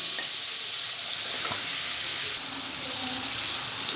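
Young hog plums frying in a pan with salt and turmeric give off a steady, dense sizzle that hisses on evenly without a break, close and fairly loud.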